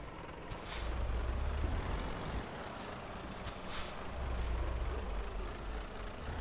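Air brakes hiss repeatedly on a truck in Euro Truck Simulator 2, several sharp bursts of released air over a steady low engine rumble, loud and close with no talking.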